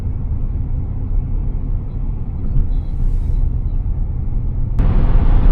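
Traffic jam on a highway with many cars on all lanes toward Nashville: a steady, close low rumble of idling and creeping engines, with a brief higher hiss near the end, no talk.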